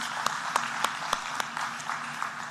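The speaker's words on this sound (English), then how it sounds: "I would like us to give them a round of applause for their presentation." Light, sparse applause from a small audience at a petroleum conference, a few distinct hand claps standing out over a soft spattering background, brief and moderately faint.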